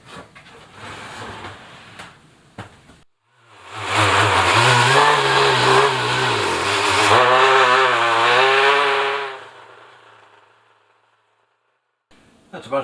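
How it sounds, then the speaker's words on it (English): A loud buzzing, rattling motor of an old sander vibrating a concrete mould starts up after a short pause, vibrates steadily for several seconds with a wavering pitch, then winds down and stops. "Happen to have an old sander that I don't use very much for sanding"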